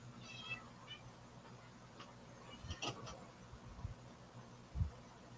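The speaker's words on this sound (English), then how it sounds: "Yeah, you hear all the meow meows." An indoor cat gives several faint meows spread across a quiet room with low background hum, plus a few soft ticks and knocks between the calls.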